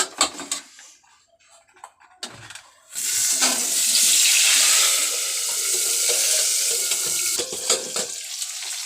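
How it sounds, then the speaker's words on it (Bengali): Potatoes drop into hot oil in a wok after a few quiet clinks, and a loud, hissing sizzle bursts out, then settles into a steady, slightly softer fry. "তো আলুটা আমরা কড়াই ছেড়ে দিচ্ছি।"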